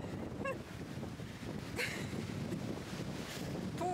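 Wind gusting and buffeting the microphone at the seashore, with the sea rushing underneath; steady, fairly quiet, no speech.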